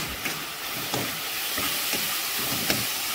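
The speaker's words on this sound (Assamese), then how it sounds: "মই এইখিনি ধুনীয়াকৈ ভাজি লওঁ" Continuous hissing sizzle of salt and turmeric spice paste frying in a pan for goat meat curry, close up, with a few soft scraping clicks of stirring.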